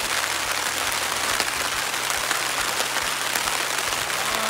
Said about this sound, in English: It's starting to pour down rain.